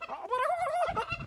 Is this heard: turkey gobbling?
yes